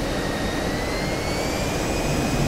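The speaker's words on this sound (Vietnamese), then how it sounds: "Đó chính là chiếc máy bay ném bom tàng hình B-2 của Mỹ." The jet engines of a B-2 stealth bomber flying in the DCS flight simulator give a loud, constant roar with a thin high whine holding over it, steady throughout.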